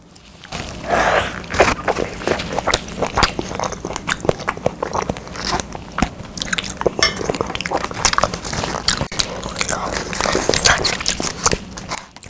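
Close, crisp bites and wet chewing of a strawberry fruit mochi, with repeated soft squelches and small crunches in a steady run and no talking.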